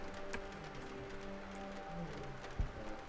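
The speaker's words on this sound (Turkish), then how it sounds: "Bugün dışarısı yağmurlu" Rain falls outside in the detective game Sherlock Holmes The Awakened, a faint, even patter with a low ambient hum and one brief thud near the end.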